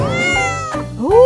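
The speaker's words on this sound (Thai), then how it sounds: "้โอ้แมวน่ารักมาก" A cat meows twice up close, loud and clear, the second call rising in pitch, with no voices over it.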